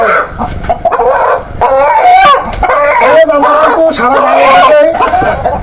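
Many Tiger breed chickens and chicks cluck and squawk close by in a noisy, continuous chorus, with a rooster-like crow standing out among them.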